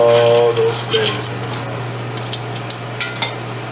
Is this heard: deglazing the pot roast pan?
yes